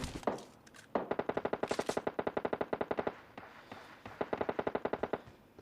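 Automatic gunfire in a battle royale video game rattles in rapid bursts of sharp, evenly spaced shots, several volleys separated by short pauses, fairly distant and moderate in level.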